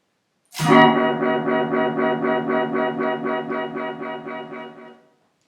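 A bright synth note with reverb and delay effects attacks, then holds as a distorted, pulsing tone with a rhythmic wobble, sustaining for several seconds before cutting off.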